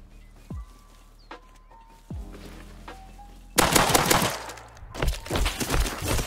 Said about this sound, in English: I didn't even think of outpost shooting me